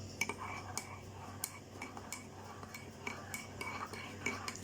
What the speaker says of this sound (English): Just give it a little stir.